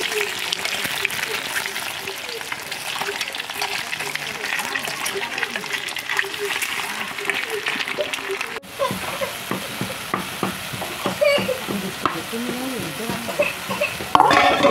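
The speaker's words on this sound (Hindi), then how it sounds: "प्याज थोड़ा पकने देते हैं, उसके बाद ये अंडा डालूंगी।" Onions fry in a pan with a bright, crackling sizzle that continues throughout, joined by scraping stirs and a few sharper pops. Someone talks over the cooking.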